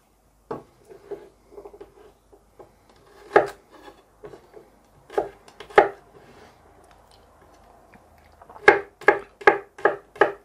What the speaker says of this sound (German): Den Knoblauch schneide ich einfach auch nur so grob